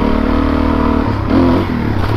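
A DRZ400S or KLX300 dual-sport motorcycle engine runs steadily and loud, with a low droning idle that swells briefly in a rev near the middle before settling back to a constant hum.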